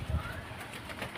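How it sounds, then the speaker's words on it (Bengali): Young pigeons of good quality cooing softly, a brief low murmur near the start over faint background noise, no talk. "এই দুটো একটু অল্প বয়সের পায়রা, খুব ভালো পায়রা।"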